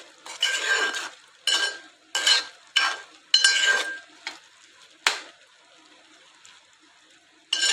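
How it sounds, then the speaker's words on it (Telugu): Ridge gourd chutney ingredients, tamarind among them, stirred in a pan in a handful of short, scraping bursts with light clinks, each separated by brief pauses, close and fairly clear, no voices. "ఇవన్నీ వేసి ఒకసారి మంచిగా కలుపుదాం."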